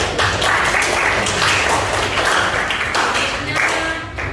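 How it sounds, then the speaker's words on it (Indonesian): Applause from a classroom of students fills the room with dense, steady clapping at close range for several seconds, fading slightly toward the end. "Oke, tepuk tangan untuk ini."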